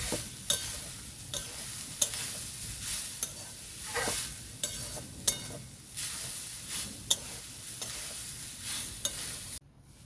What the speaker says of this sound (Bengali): এইভাবে আমি নাড়তে থাকবো, না নিচে লেগে যাবে